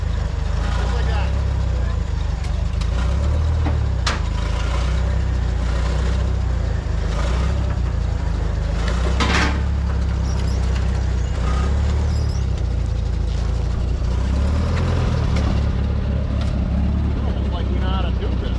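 A vehicle engine idles and rumbles low and steady throughout while it is slowly maneuvered into position, close and loud, with a voice giving directions over it.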